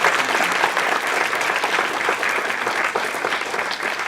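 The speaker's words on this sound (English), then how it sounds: "Let's give them a round of applause." Dense, steady applause from an audience at a spring food forum in Amherst, a continuous wash of many hands clapping at fairly loud level for the whole stretch, with no voices above it.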